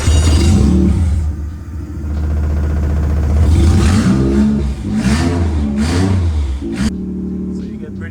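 A Toyota AE86 fitted with a GR Yaris three-cylinder engine and a very short exhaust idles with a low, lumpy, uneven rumble close by, while a person talks over it.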